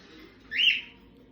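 Pet birds give a single short, bright chirp indoors near a window, close by and fairly clear over a low, quiet room hum.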